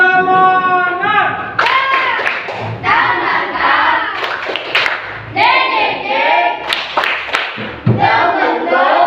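A school class stands and performs a rhythmic spirit clap chant, sharp bursts of clapping in patterned groups mixed with children's voices chanting and calling out between the claps.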